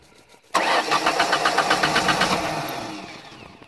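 A starter motor cranks a 1991-95 Ford Escort LX engine, kicking in abruptly with a loud, fast rhythmic churning that runs for about two seconds before tapering into a fading whir.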